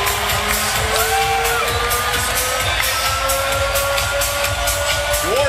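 A pulsating home crowd cheers loudly at Houston's Toyota Center after the Houston Rockets clinch a basketball win over the Golden State Warriors, a dense, steady roar of voices and whoops filling the arena.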